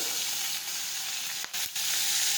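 Hot oil hisses steadily as curry leaves and chopped green chillies go into the pan. The sizzle is loud and close, with two brief dips, and no one speaks.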